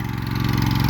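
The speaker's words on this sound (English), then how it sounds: "He's turning around the truck" A truck engine runs close by at a farm auction, a steady, throbbing mid-pitched rumble with a faint rhythmic pulse, holding an even idle throughout.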